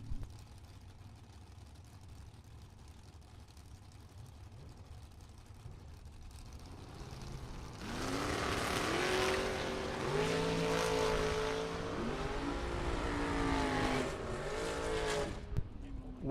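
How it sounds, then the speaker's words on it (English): Drag race launch with a Chevrolet Camaro Z28 and a dragster, heard from a distance: quiet ambience, then engines roar up around the eight-second mark, rising and shifting in pitch as the cars pull away. "Keep your eyes glued to the Z28 Chevrolet Camaro on the left-hand side. Always leaving with the front tires high in the sky."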